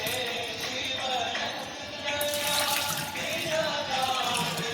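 Rinse water poured out of a bowl in a home kitchen while boiling peanuts and eggs, a steady splashing, gushing stream that runs continuously and close by, moderately loud with no speech over it.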